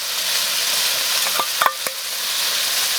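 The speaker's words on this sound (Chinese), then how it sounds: "辣椒下锅" Chili peppers sizzle steadily in a hot wok with eggplant and garlic, with a short burst of metal clinks and scrapes from a spatula midway.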